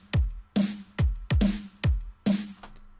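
Electronic drum pattern from a build-up section, punchy kicks with booming low tails alternating with bright noisy snare or clap hits in a steady, slightly syncopated rhythm, played alone and loud.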